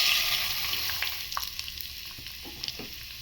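Mustard seeds, cumin and urad dal fry in hot oil with a constant close sizzle, broken by small scattered crackles and pops.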